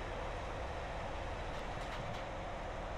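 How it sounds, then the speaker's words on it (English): Steady low rumble of a train slowing down in Train Simulator 2018 on the Carlisle to Glasgow route, a continuous rail and engine drone with faint high squeaks near the middle. "We're just gradually just slowing the train down."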